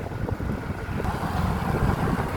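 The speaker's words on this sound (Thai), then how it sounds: "ลมแรง" Strong wind buffeting a microphone on a road near Ban Na Lom in Laos, a dense steady rumble that roars on without a break for the whole stretch.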